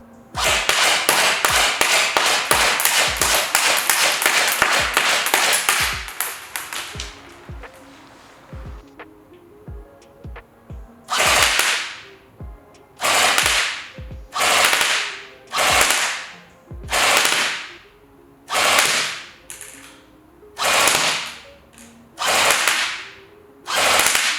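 An ICS L86A2 LSW airsoft replica firing 0.3 gram BBs, first a long rapid automatic burst of sharp cracks, then a pause with faint mechanical clicks, then about ten loud single shots at a slow, regular rhythm.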